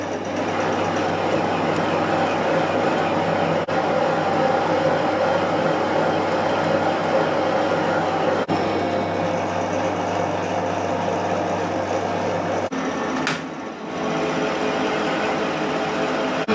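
A Colchester Student lathe doing plain turning gives a steady, close mechanical drone and whirr with a constant low hum. The drone runs unbroken, then the hum drops out briefly near the end.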